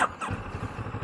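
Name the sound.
CFMOTO 650MT motorcycle engine starting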